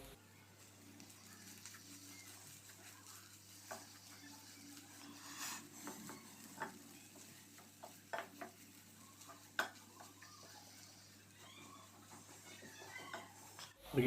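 Faint, close stirring of a potato and spice kachori filling with chopped green chili in a pan, irregular scrapes and soft clicks over a quiet low hum, with no talk.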